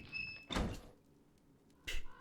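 Knocking on a door in the video game Metro Exodus: two separate dull knocks or thuds, each short and fairly loud, spaced over a second apart against a quiet background.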